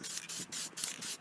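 Aerosol can of white spray paint hissing onto the small branches of an Easter egg tree, three or four steady close bursts with short gaps between them, no one talking.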